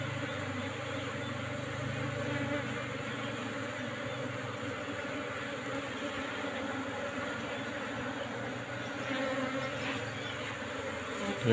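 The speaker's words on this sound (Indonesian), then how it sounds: "Yang muter-muter itu tawon" A steady, droning buzz of many Apis cerana bees circling close by a colony throughout, a continuous insect hum with faint background noise and no clear speech.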